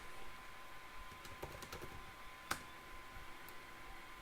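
Light clicks of keys being pressed on a Mac computer keyboard, a few sparse taps with one sharper keystroke, quiet and close with a faint steady tone in the background.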